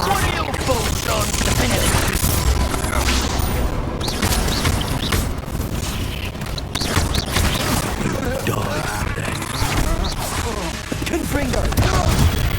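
Rapid bursts of Confringo fire-spell blasts from a Hogwarts Legacy battle keep going for the whole stretch, loud and dense, with booms and crackling impacts packed together and background combat noise underneath.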